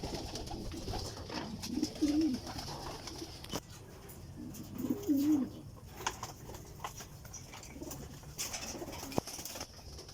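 Racing pigeons give soft, rolling coos, a few separate calls close by over quiet background rustle.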